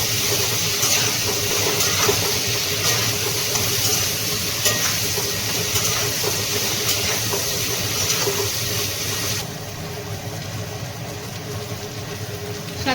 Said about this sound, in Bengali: খুব সুন্দর ভাজা ভাজা হয়েছে হ্যাঁ এইরকমই লাল লাল করে ভাজতে হবে